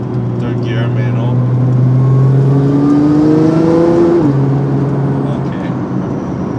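A Nissan GTR with a manual gearbox accelerates hard in third gear, the engine drone climbing steadily in pitch before easing off, loud and close from inside the cabin.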